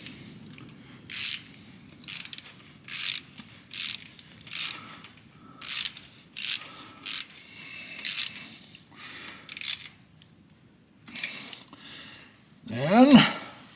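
A ratchet wrench tightens bolts on a Kawasaki G4TR engine being joined to its frame, in a close, rhythmic series of short clicking bursts with brief pauses between strokes, ending in a louder scrape.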